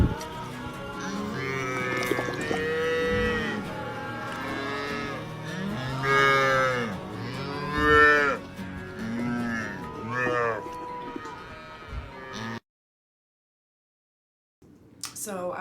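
A dairy cow mooing after its calf was taken away, repeated long loud bellowing moos close by, several calls in a row before a sudden cut to silence and a brief return of sound at the end.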